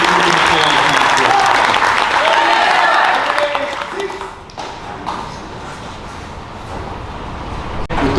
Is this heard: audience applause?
yes